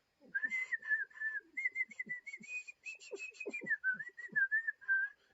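Mickey Mouse whistles a lilting tune in Steamboat Willie, a clear bright melody of sliding whistled notes over a faint plucked, bouncy musical backing, no speech.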